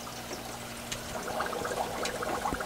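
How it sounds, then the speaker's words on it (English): Aquarium air stones driven by a linear piston air pump give a soft, continuous bubbling and trickling, close and faint, with a low steady hum underneath. "I hear bubbles."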